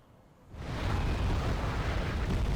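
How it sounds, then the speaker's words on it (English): Artillery barrage in the video game Wargame, a dull rising rumble of distant blasts swelling after a quiet start into a continuous heavy roar. "it's going to be non-stop artillery here for a while."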